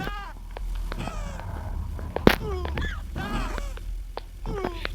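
A cat meowing in a video game, several short rising and falling meows in quick succession over a low background hum, fairly close and clear, with a brief sharp click in the middle.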